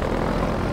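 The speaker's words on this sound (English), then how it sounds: "The helicopter!" Helicopter in the Garry's Mod video game, a steady low rotor and engine drone heard close and fairly loud, with a sudden louder thump right at the end.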